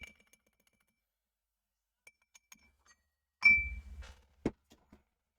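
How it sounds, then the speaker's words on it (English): A spiked muddler smashing cherries in a glass: sparse small taps and clinks, then a denser grinding press against the glass and a sharp knock, all fairly quiet in a still room. "I'm just pressing down, smashing those cherries"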